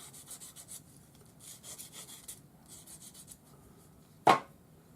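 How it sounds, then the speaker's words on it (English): A sanding stick with 400 grade sandpaper rubs over spots on hammered metal for a pendant, soft repeated scratchy strokes in short bursts, ending with one sharper knock. "I'm sanding those spots with 400 grade sandpaper on a sanding stick"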